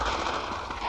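Automatic rapid gunfire in the mobile shooter Unkilled, a loud continuous burst of shots with no talk over it.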